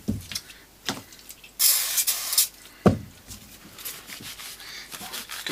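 A can of Mr Sheen polish gives one sharp hissing spray, lasting about a second, onto the back plate of a Squier Stratocaster 'California' series guitar, framed by soft knocks and handling sounds up close.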